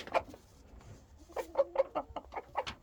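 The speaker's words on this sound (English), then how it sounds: "I could be trying to get the rooster's attention." A rooster clucking in a run of short, quiet, close clucks after a pause, uneven in rhythm and fairly faint, with no talking.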